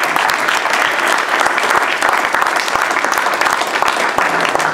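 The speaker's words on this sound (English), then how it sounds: "I think a round of applause for Peter." A round of applause from an audience at a freelancers' fair panel, steady and fairly close, with dense overlapping claps sustained throughout.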